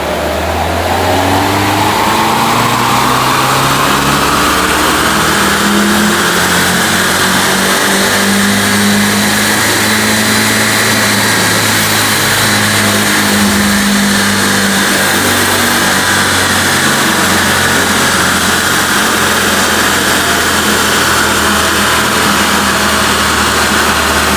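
Alfa Romeo MiTo engine revving hard on a dyno, loud and sustained with rising and falling pitch sweeps as the revs climb and settle, no talk.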